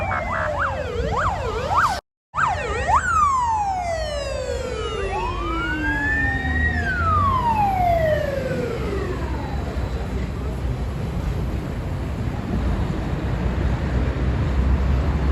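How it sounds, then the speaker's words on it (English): A fire department vehicle's siren on a street in St Petersburg, Russia, rapidly yelps up and down, then breaks into long rising and falling wails. It is loud and close, with a brief dropout near the start. "The fire department car."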